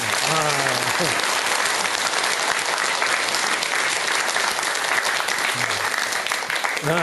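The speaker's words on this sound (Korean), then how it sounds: "박수 한번 더 쳐야 된다" Continuous applause from an audience at a Buddhist monk's dharma talk, a thick, even roar of clapping held for several seconds, loud and close with brief voices mixed in.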